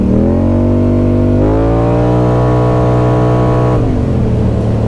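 A 2025 Polaris Sportsman XP1000 S ATV engine revving loudly up close, its pitch rising and holding at a high whine, then dropping back toward idle.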